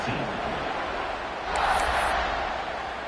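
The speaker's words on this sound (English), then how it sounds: "this crowd is buzzing after that last score" A stadium crowd murmurs and buzzes after a college football touchdown at Louisville, a steady broad roar that swells slightly midway, with a faint whistle-like tone above it.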